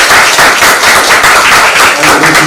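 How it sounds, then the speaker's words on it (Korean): An audience at a Korean academic conference panel discussion claps loudly and continuously, dense applause filling the room for a few seconds without speech. "박수 한번"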